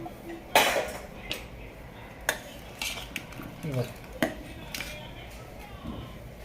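Idli, sambar and coconut chutney being served onto a thali, with a run of sharp metal clinks and scrapes of serving spoons against steel plate and bowls, spaced irregularly and fairly close, with soft room background.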